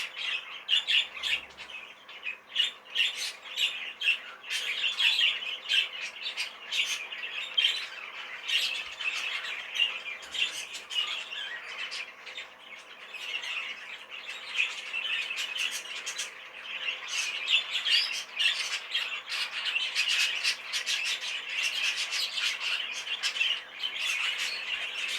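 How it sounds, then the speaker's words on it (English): A large young bird in a cage gives rapid, harsh squawks and chirps in a near-continuous string, close and fairly loud, with no voices over it. "So she's quite a biggish looking bird."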